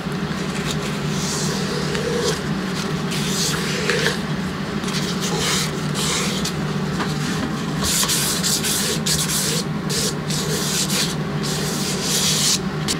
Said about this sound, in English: Basically, it's just a piece of plastic with some sandpaper wrapped around it.